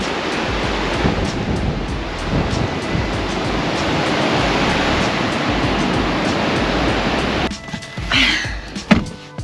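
Strong wind roars across the microphone with a broad rushing noise, surf blending underneath at a beach in Cape Le Grand National Park near Esperance, Australia, then briefly drops away near the end as it gusts and buffets.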